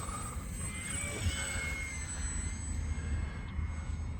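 A small E-flite UMX Turbo Timber Evolution RC plane runs its electric motor in a steady, continuous whine with a high tone that shifts in pitch, while outdoor wind rumbles low underneath, with no talking.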